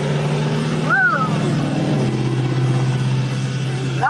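A loud vehicle roars past on a road, with a steady engine rumble and a brief hiss like an air brake, while a voice speaks over the noise.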